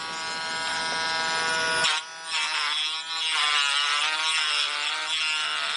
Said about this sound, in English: what I like to use is this little sanding wheel